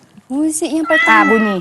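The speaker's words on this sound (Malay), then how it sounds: "Bunyi kucing." Recorded cat meows played during a special-education music lesson: a single drawn-out, wavering meow, loud and close, with an adult voice talking over it.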